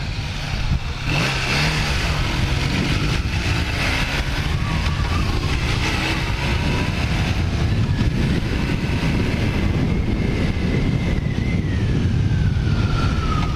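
A 1980 Kawasaki LTD440 motorcycle engine running steadily while riding, with a continuous loud drone, wind rush and a rising pitch late on as it speeds up.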